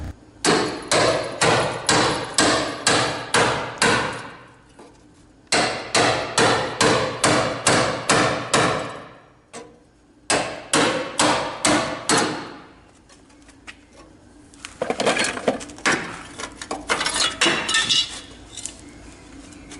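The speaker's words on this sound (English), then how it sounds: "I'm just going to try and chisel it off" Hammer and chisel striking steel as spot welds are cut off a car body panel, sharp metallic blows in rapid regular bursts of about a dozen hits, pausing between runs, with a scraping, clinking final stretch.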